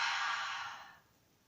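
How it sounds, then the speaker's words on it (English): One big, loud breath pushed out through the mouth during a breathing exercise, a breathy rush that holds for most of a second, then fades into quiet. "big loud exhale through the mouth"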